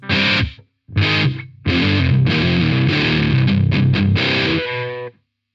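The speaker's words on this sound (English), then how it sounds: "it's very clean sounding distortion" Electric guitar played through a Joyo Taichi distortion pedal with a smooth, moderate, clean-sounding distortion, strummed chords and a short riff with brief pauses, loud and close, no voices.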